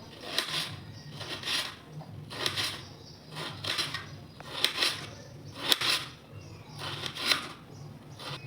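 A knife slicing peeled potatoes into thin long strips on a cutting board: a steady series of crisp, close chopping taps, about one per second, over quiet kitchen background.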